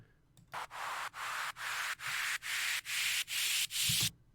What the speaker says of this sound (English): final thing just to note here is just a riser that I have on the track as well